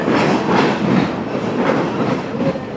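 Sri Lanka's Ella Odyssey train rumbles loudly along the rails between Ella and Ambewela, with a steady rhythmic clickety-clack of wheels over joints heard from inside the carriage.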